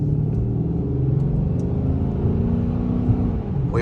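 A Chrysler 300C with a Hemi V8 engine rumbles nearby with a deep, steady idle-to-light-rev drone, a low throaty note that holds constant across the few seconds.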